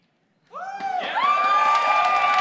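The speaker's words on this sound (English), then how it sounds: "Bomber, this crowd has been going nuts for you this entire tournament" A crowd at a StarCraft 2 tournament semifinal cheers, rising suddenly into loud, sustained shouting and whooping that holds steady without letting up.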